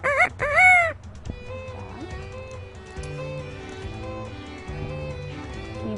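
A pet parrot lets out a loud, close crowing call mimicking a rooster, a bright rising-and-falling cry lasting under a second, followed by softer background music-like tones.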